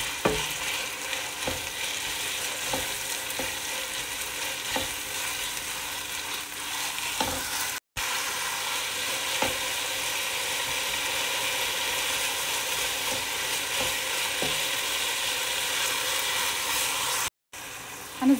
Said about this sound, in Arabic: نقلبها شوية مع البصل، حنزل الدجاج